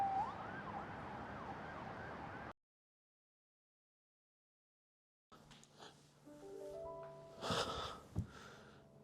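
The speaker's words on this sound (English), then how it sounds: "oh, sorry about the siren." A faint, distant emergency vehicle siren wails, cuts to silence for a few seconds, then returns among other quiet tones and background noise.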